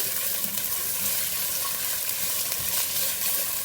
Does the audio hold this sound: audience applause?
no